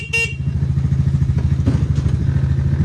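A mini jeep's small engine idles steadily up close with a fast, even putter, with a brief rattle and a clunk near the start, and no one talks.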